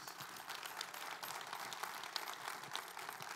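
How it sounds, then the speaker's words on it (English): A church congregation gives its pastor a round of applause, a faint, steady wash of clapping that stays even and distant throughout. "Can we give your pastor a round of applause really quick, please?"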